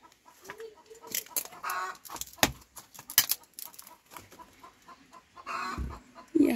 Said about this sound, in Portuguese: Mas isso é bom, escutar esse barulho das galinhas.